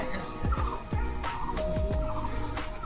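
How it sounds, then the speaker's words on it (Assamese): Birds call around the grounds of Kangla Fort in a quiet setting, giving a series of short gobbling, fowl-like calls over about three seconds against steady outdoor background noise. "আৰু খুব শান্তশিষ্ট পৰিৱেশ ইয়াতে চৰাই মাতি আছে"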